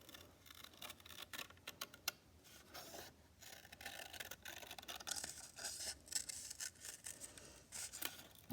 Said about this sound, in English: Now I'm going to cut out my other feather.